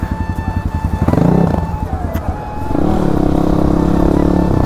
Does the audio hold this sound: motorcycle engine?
yes